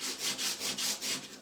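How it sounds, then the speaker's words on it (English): Sandpaper rubbing back and forth over a milk-painted wooden heart, six or seven steady rhythmic strokes, close and fairly loud with no talking. "Now I'm just gonna sand it down where I put that"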